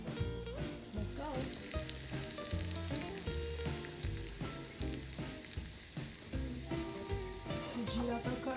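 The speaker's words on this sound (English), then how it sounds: "I'm going to have a very simple jeera tadka in ghee with curry leaves" Cumin seeds and curry leaves sizzling in hot ghee for a tadka, a busy crackling fry running continuously beneath rhythmic background music.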